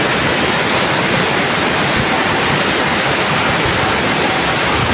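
Strong floodwater rushes through a small canal during a typhoon's heavy rain, a loud, dense, unbroken roar of churning water close by with no voices.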